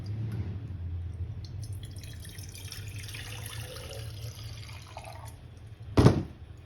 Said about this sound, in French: on va faire le plein d'eau